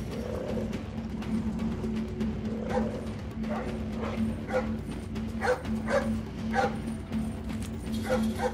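A guard dog barks repeatedly in Splinter Cell Blacklist, with sharp, fairly close barks and yips coming in an uneven series over a low steady game hum, mixed with a few whimpers and no talking.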